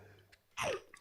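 A single short, sharp sneeze bursts out at close range, loud and abrupt, in a quiet indoor room with faint background hum.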